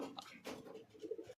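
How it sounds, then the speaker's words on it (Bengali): Pigeons coo close by in a low, soft, rolling murmur of a few overlapping calls, faint and without any talk. "এই দেখো কিছু কিছু পায়রা এখন,"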